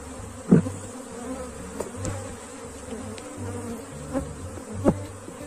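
A honeybee swarm hums at a hive that is filling its space, a dense continuous buzz close by with a few individual bees droning past, no voices.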